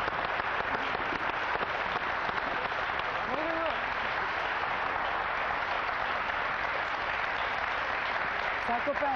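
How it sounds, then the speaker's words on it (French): Studio audience applause on a French television show as a guest is welcomed, a steady, even roar of many hands clapping for several seconds, with a faint voice or whistle briefly rising above it. "Je vous propose de l'applaudir."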